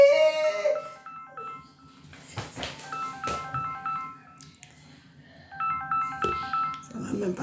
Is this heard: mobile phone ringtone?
yes